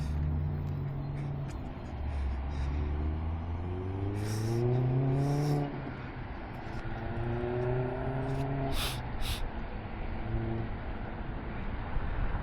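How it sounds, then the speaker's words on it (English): Road traffic close by, with several vehicles passing one after another, their engines rising and falling in pitch as they rev past; the noise is loud and continuous with no talking. "Traffic's dying down a little bit"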